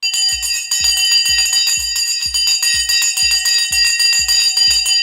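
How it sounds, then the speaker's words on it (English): A trading bell signals the start of the session with a rapid, loud, continuous metallic ringing, about two strikes per second, sustained throughout with no voices. "The bell has now gone and we are off to the races."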